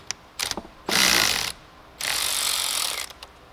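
A hand ratchet works loose the negative battery terminal nut on a 2016 Volkswagen Jetta, with short clicks followed by two longer bursts of rapid ratcheting, close and fairly loud.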